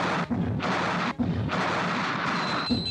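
Artillery gunfire in wartime archive footage as a dense, continuous roar of booming blasts, with brief gaps between heavy bursts, loud and sustained.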